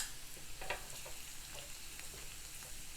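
Ajwain seeds and garlic frying in a pan, a steady soft sizzle with small pops and crackles throughout, fairly quiet.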